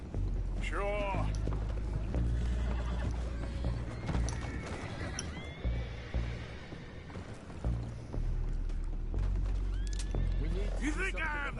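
Horses in Red Dead Redemption 2 whinny in short bursts near the start and end, mixed with hoof clatter, splashing, music and overlapping shouted voices.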